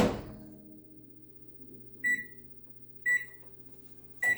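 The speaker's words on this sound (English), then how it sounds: "I'm gonna pop this in the microwave" A microwave oven hums softly while melting soap base, with several short bright beeps spaced about a second apart over the steady drone.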